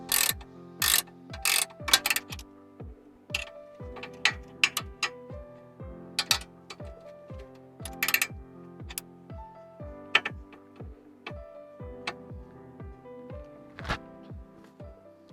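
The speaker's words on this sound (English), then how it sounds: "the 9mm socket actually is holding on to the inner part and allowing it to not spin with the nut" A socket wrench ratchets while loosening the nut on the outer tie rod end of a 2010 Ford Mustang S197, close and clear, giving repeated short bursts of clicking separated by brief pauses, with sharp metallic knocks mixed in.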